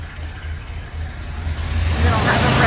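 A 1969 Ford F100 Ranger four-speed pickup engine runs just after a cold start, its low rumble swelling louder as it is revved, with a voice over it.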